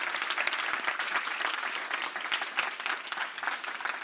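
A large audience at the Solve Challenge Finals 2023 applauds, a steady, dense crackle of many clapping hands that keeps going without a break.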